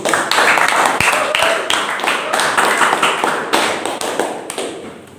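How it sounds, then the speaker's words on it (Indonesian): Students in a classroom clap for a group presentation, a loud, close patter of hands with distinct sharp individual claps standing out, gradually thinning toward the end. "Beri tepuk tangan dulu."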